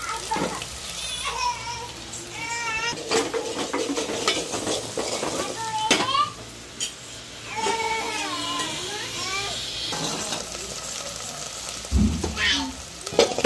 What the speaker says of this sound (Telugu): ఆ పేస్ట్ కూడా వేసేసుకొని బాగా ఫ్రై చేసేసుకోవాలి